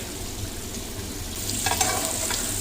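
Meat fried in oil sizzles close by while a utensil stirs it, with scraping and a brief burst of louder crackling midway, no talking.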